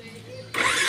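A motorcycle fitted with an add-on anti-theft security device starts up: a quiet hum, then the engine abruptly catches halfway through and runs loudly and close by.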